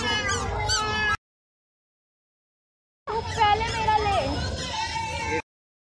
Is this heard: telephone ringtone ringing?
no